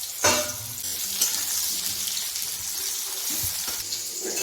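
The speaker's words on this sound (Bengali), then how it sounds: "এবার আছে সেগুলো আবার ভেজে নেব।" Boiled green jackfruit pieces, cooked with turmeric and salt, frying in hot oil with a dense, hissing sizzle that stays loud and steady throughout, a couple of brief stirring scrapes near the start, heard close with no speech.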